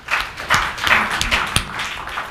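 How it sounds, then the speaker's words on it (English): Small crowd at a business networking mixer gives a short round of applause, a loose patter of scattered claps with a few sharper hand strikes standing out. "Bit of a round of applause"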